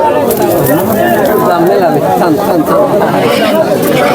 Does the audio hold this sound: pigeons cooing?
yes